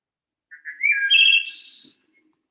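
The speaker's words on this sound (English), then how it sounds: "here it is, the actual sound, real speed of the wood thrush," A wood thrush sings one fluting phrase at real speed, a few short low notes rising into a bright, ringing trill, clear and close with no other sound.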